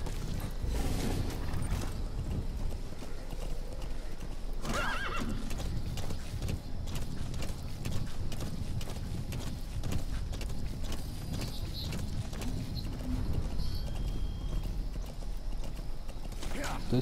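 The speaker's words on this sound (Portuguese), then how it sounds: "Vem, cavalinho." A horse in the video game Metal Gear Solid V neighs and whinnies, with repeated clip-clop hoofbeats and other game sounds running continuously behind it.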